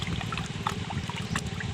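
Water splashing and trickling onto an earthen bund, a steady close wash of liquid with small splashy bursts throughout.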